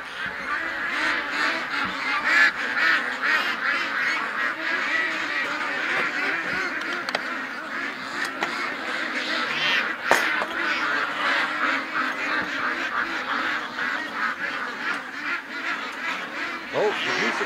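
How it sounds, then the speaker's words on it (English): A flock of geese and ducks calls continuously at a lake, a dense chorus of honks and quacks close by, with occasional faint voices mixed in. "Oh, the geese are coming over right away."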